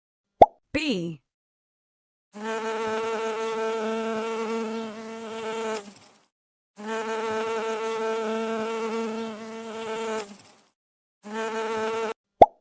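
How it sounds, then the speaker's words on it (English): A bee buzzes in three separate bursts of a few seconds each, a droning, reedy hum that rises and falls slightly, close and clear, with a couple of short clicks and a brief plop before the first burst. "Bee."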